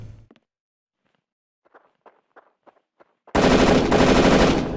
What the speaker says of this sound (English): Do the Germans in the camp not hear all this gunfire?